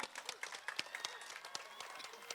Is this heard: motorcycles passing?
no